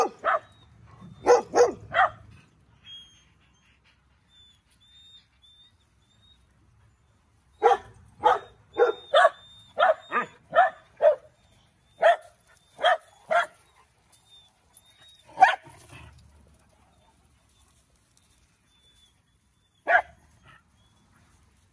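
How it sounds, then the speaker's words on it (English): A group of puppies yips and barks in short, high-pitched bursts, some clustered in rapid runs and others spaced out by quiet pauses, fairly close and clear with no talking. "Puppies everywhere."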